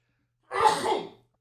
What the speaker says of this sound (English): Was that a reflexive sneeze?